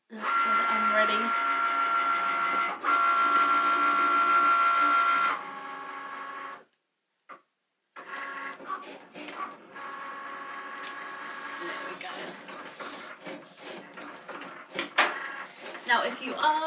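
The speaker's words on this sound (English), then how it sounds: "we will pop that into the machine to cut" A Cricut cutting machine cuts leather for earrings, a steady mechanical whir with carriage motor tones, a brief pause, then irregular movement sounds and a speaking voice.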